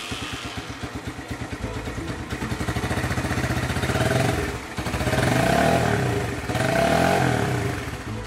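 A motorcycle engine, said to run on a water-based fuel, starts up and runs close by with a chugging idle, then revs in two or three rising swells.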